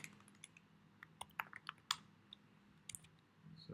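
Fingers type on a computer keyboard during a shell scripting session, a quiet, irregular scatter of light key clicks with a few sharper taps, close and unaccompanied by speech.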